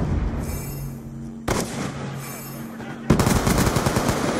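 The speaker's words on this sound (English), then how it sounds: "Friendly Hellstorm missile inbound." Heavy gunfire and explosions ring out in the Black Ops 2 video game as a Hellstorm missile strike comes in, sharp bursts and booms separated by sudden loud hits over a constant rumbling battle bed.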